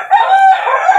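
A white rooster crows once, loud and close, a full harmonic call held for about a second with no other sounds around it.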